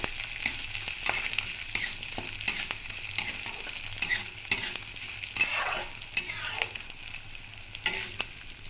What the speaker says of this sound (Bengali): ডালটা কিন্তু খুব বেশি ভাজবো না।